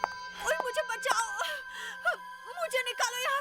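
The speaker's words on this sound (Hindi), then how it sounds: "लड़की के रोने की आवाज?" A girl cries and wails in short, shaky, rising-and-falling sobs, mixed with gasps and words spoken through the tears, over a faint low hum.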